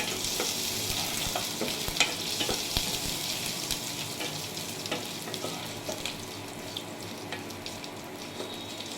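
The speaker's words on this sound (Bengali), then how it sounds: "সামান্য পরিমাণ আদা একটু ঘষে একটু নেড়ে চেড়ে নিচ্ছি" Ginger sizzles and fries in a hot pan while a spoon stirs it, giving a steady crackle broken by light scraping clicks, close up and unbroken for the whole stretch.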